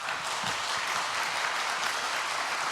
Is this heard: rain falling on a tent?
no